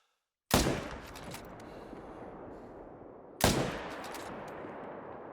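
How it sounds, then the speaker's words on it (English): Two loud rifle shots in The Hunter: Call of the Wild, a hunting video game, about three seconds apart, each a sharp crack followed by a long rolling echo that fades slowly. "I'm gonna see if I can put another shot at him real quick."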